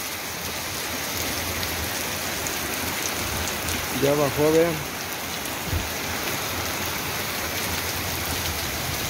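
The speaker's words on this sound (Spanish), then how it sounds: "se ve la lluvia, está al 100 ahí" Heavy rain pours steadily on an outdoor surface in a constant loud hiss, with someone briefly speaking midway through the downpour.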